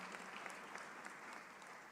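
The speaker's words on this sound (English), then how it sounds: "Big round of applause for Callie" Audience applause for Callie Means at a rally on child nutrition policy, a dense, even patter of clapping heard from a distance, brief and fairly faint.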